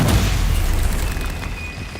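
Deep booming blasts of a Confringo spell in the Hogwarts Legacy video game, heavy low rumble rolling continuously with layered bursts and a thin high whine, loud and close, with no talk.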